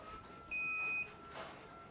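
A Chamberlain B4613T garage door opener running on battery power gives a single clear electronic beep lasting about half a second, steady and moderately loud over faint room noise.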